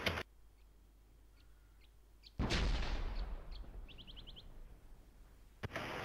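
A single heavy artillery shell lands in ArmA 2 with a loud, booming impact that rumbles out over several seconds. Faint bird chirps come before and after the blast.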